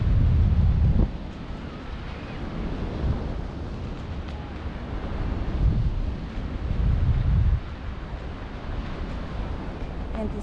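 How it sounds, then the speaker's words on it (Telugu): Strong wind buffets the microphone in heavy, uneven roaring gusts while parasailing high over the ocean, loudest at the start and in surges around the middle, with faint surf and boat noise beneath. "గాలి ఉంది కదా అందుకే"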